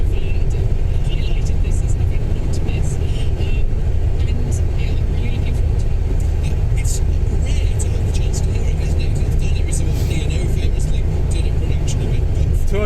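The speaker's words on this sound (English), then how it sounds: "We're doing 79 and we've got a little bit of shake, rattle and roll." Steady, loud road and engine drone from a car cruising at about 79 mph on a highway, with a faint rattle and shake running through the whole stretch under a continuous roar.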